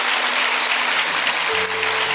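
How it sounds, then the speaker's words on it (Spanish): Church congregation applauding during a sermon, a loud, continuous wash of clapping with a low tone humming underneath throughout. "apláudele un poco más fuerte"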